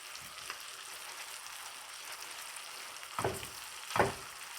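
Shrimp with garlic frying in a pan, a soft steady sizzle followed by two short louder bursts near the end as the pieces are stirred or moved.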